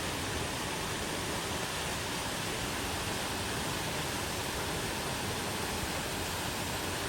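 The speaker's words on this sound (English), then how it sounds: "So I found the waterfall." A waterfall pours in a constant broadband hiss and rush, steady and unchanging throughout, fairly faint and heard from some distance, with no voices.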